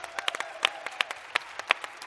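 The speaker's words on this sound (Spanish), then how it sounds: "Un aplauso para ellas." Sparse, scattered hand claps from an audience at a university library's anniversary science festival, a few distinct claps over a quiet, hushed room.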